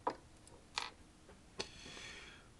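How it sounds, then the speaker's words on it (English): Quiet, close clicks and light scraping of screws being taken out of a Maxtor OneTouch II external drive enclosure, a few sharp ticks spread over a couple of seconds. "So just remove these screws after they've been loosened."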